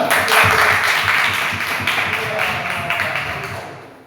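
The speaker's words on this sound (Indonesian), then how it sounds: "Iya, tepuk tangan." A classroom group claps together in a dense, loud burst of applause that holds steady for a few seconds before trailing off, with some mixed voices underneath.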